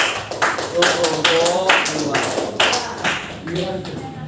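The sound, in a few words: applause from classroom audience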